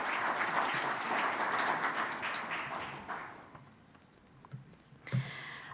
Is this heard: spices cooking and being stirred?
no